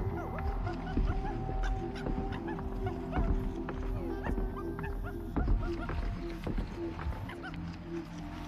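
Dog whimpering and barking in the video game Happy Game, short yips and whines repeating over a dense, busy game soundtrack, with a voice speaking now and then.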